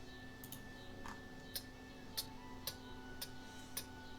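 A Warforged, a mechanical construct, ticking: sharp, evenly spaced clicks roughly every half second, faint against a steady hum, with no voices.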